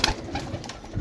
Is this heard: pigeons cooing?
yes